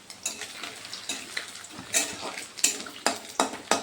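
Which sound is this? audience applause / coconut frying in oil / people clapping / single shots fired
coconut frying in oil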